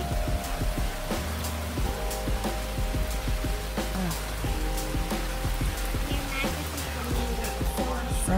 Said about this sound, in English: Just rain, rain, rain.